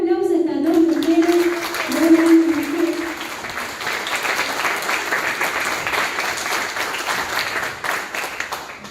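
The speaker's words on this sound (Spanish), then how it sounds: "Ahora sí, un aplauso a estas dos mujeres." An audience at a book presentation in Argentina applauds two women, with a voice speaking over the opening seconds before sustained, fairly loud clapping carries on and gradually thins.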